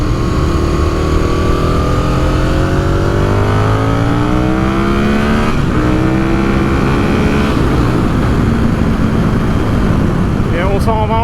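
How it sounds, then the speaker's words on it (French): A 2003 Aprilia RSV 1000R motorcycle engine accelerates hard through several rising sweeps, loud and close, each gear pulling the pitch upward in repeated climbs. "Donc un moteur explosif avec un gros frein moteur, vraiment dès qu'on coupe les gaz on sent vraiment un gros coup de frein moteur."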